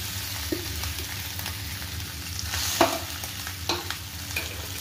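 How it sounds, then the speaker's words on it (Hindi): Mashed potatoes are stirred in a pan of spices over a medium flame for aloo paratha filling. A soft, steady sizzle runs throughout, with a few scraping clicks of the spoon close by. "यहाँ पे आलू जो मैश करके मैंने रखा है वो आलू डालेंगे। गैस को एकदम मीडियम फ्लेम पे ही रखेंगे"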